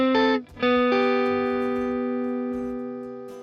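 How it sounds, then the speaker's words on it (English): Electric guitar playing a country lick, with chicken-picked clucks and chromatic passing notes, heard alone: a few sharp plucked attacks, then one long sustained chord ringing on with a slight effects sheen. "let's take that same lick and spice it up a bit by picking and clucking at different times and adding a little bit of"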